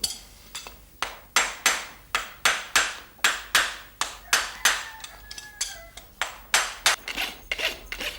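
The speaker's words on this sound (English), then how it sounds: "A rasp is used to file down the nail heads to form the clenches" A farrier's rasp files nail heads flat on a horse's hoof in about fifteen sharp, rhythmic strokes that come steadily and close up, with no talking.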